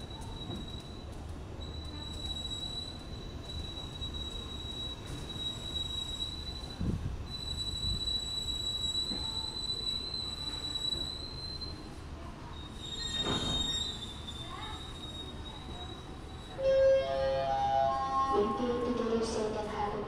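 A KA Brantas economy-class passenger train rolls on rails with a constant rumble and high-pitched wheel squeal, and the noise grows louder and clatters near the end.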